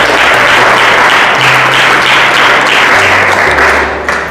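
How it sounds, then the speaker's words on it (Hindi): Church congregation clapping together in steady, dense applause that fills the room at close range, continuous for several seconds before tapering slightly at the end. "चलिए ताली तो बजाकर प्रभु की महिमा करें।"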